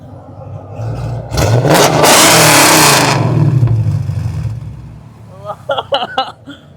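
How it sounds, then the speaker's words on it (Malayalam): A Dodge car with BBK long-tube headers and a straight-pipe exhaust, in Kochi, revs hard in a loud, close roaring burst that swells and then fades, and voices follow at the end. "Fully exhaust system, it will be BBK long tubes plus straight pipe."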